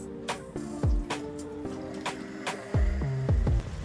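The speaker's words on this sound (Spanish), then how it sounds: "Una poquita de agua." A little water splashes and drips into a pan holding vinegar-soaked bread and pumpkin for a traditional Spanish dish, heard as a few irregular wet plops, clinks and trickles up close with no speech.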